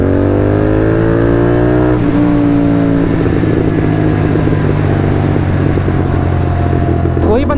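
Motorcycle fitted with a Red Rooster exhaust revving loud and close in first gear, rising engine tones falling away into popping crackles on the overrun, with someone talking over it.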